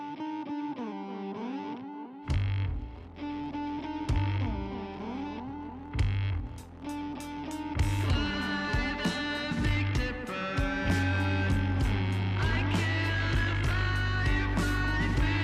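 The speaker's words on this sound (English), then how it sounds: "now we're going to hear one of the songs off that EP." A band plays a song from its debut EP: distorted guitars and heavy drums kick in after a sparse intro, building into a loud, dense, steady rock passage with no talking.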